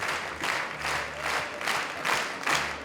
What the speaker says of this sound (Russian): Овации долго не смолкали